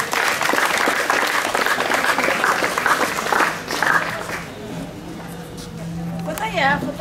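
An audience at a school vegetable-plant handover ceremony claps steadily and loudly for several seconds, the applause thinning and fading out toward the end as a voice and background chatter come up.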